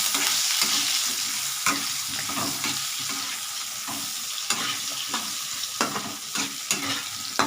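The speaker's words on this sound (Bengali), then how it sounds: "এই আলুগুলো একটু ভাজা ভাজা হোক" Potato pieces with turmeric fry in oil for a tangra fish curry, giving a constant close sizzle with intermittent clinks and scrapes of a spoon stirring the pan, without any voices.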